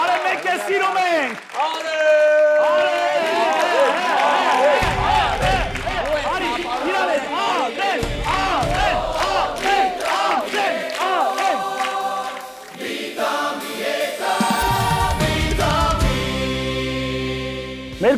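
A television studio audience on an Armenian evening entertainment show claps and cheers over loud music with singing. The crowd noise stays steady and blends with the music for the whole stretch.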